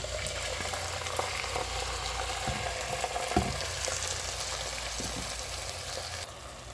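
Daal mash sizzles and bubbles in a pan, a dense continuous frying hiss with a few soft stirring knocks, close and steady throughout.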